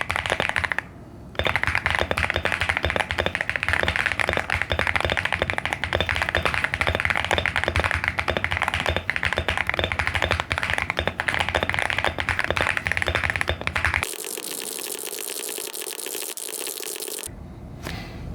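Fast, continuous clacking of keys on a Gravastar K1 Pro keyboard with a wrist pad fills a close, dense stretch of rapid typing, which then gives way to a quieter, steady hiss near the end.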